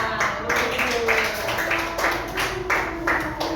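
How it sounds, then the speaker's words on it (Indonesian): Classroom applause from students after a quiz answer on smart machines, a short run of rhythmic clapping bursts, moderately loud and close, mixed with voices. "Oke, tepuk tangan."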